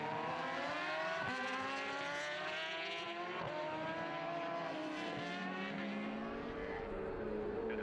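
Superbikes at racing speed on the Tandragee 100 national road race circuit, engines screaming loud and continuous as they power toward a crossroads, pitch shifting with gear changes and passes, with no talk over them.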